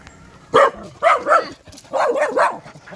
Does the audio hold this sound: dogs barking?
yes